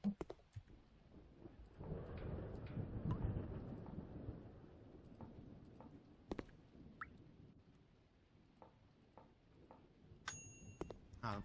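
Lightning and thunder in the Crimson Room: Decade video game: a broad rumbling roar builds in the first seconds and fades, with sharp crackling zaps and clicks scattered throughout, ending in a burst of bright electronic pings.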